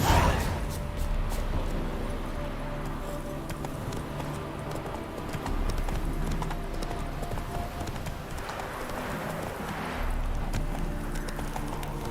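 Roach, Geralt's horse in The Witcher 3, clip-clops along in a steady rhythmic gait, the hoofbeats close and continuous under a low game soundscape.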